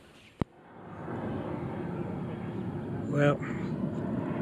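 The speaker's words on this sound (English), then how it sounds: "I did want to show you what it's like to have a jet fly underneath" A jet aircraft passing below a mountain overlook near McAfee Knob, a broad, steady roar that swells and lingers, with someone speaking briefly over it.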